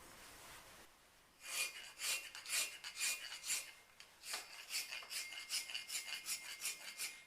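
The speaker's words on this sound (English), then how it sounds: "The next step would be then to remove all the marks made by the flat chisel with a rasp." A hand rasp scrapes across carved stone in repeated rhythmic strokes, close and crisp, smoothing away flat chisel marks after a brief quiet start.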